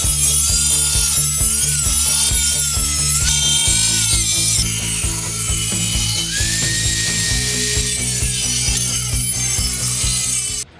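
A Klock Werks motorcycle front fender is cut with a power tool, giving a loud, close, sustained grinding whine with a steady hum underneath and small shifts in pitch as the cut goes on.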